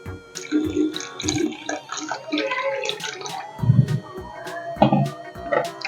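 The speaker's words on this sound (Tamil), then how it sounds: "இந்த தேங்காய் பால் ஊற்றிக்கலாம்." Coconut milk poured into a bowl while making rose cookies, a close, intermittent liquid glugging and splashing with clinks of the container, no speech over it.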